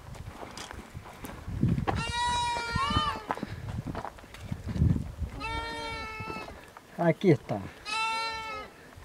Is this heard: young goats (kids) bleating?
yes